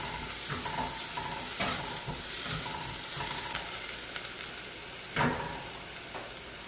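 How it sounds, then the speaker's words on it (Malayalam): Chopped onions sizzle steadily in a hot pan as they are sautéed until transparent for a beetroot and potato kurma. A moderate frying hiss continues throughout, with occasional stirring scrapes and clinks and no talk. "എന്നിട്ട് ട്രാൻസ്പെറൻറ്റ് ആവുന്നവരെ നന്നായിട്ട് വഴറ്റി വെക്കാം."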